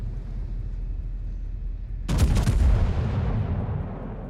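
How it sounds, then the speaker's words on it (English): A warship's main guns fire in a naval battle video game as one sudden heavy boom that rolls into a long, deep rumble and decays slowly over a quiet background. "You always cross your fingers when you fire the guns in this ship."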